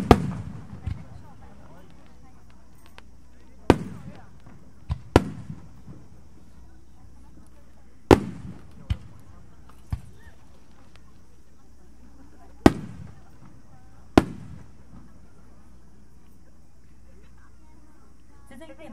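Fireworks, including a starmine display, burst with sharp booming cracks at irregular intervals at the Izumo Myth Festival fireworks show, several loud reports spread over the span, with a low rumbling background between blasts.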